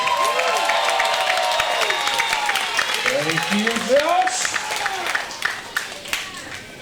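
Crowd cheering and clapping at a professional wrestling event, a steady roar of applause and shouts under an announcer's voice throughout.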